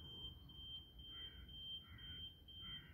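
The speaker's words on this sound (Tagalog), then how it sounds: "Yung kotse ba na nag-alarm?" A car alarm going off somewhere in a rural Philippine area at night: a faint, distant repeating electronic tone pulsing in short bursts over a low background rumble.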